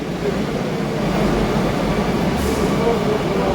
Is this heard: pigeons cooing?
no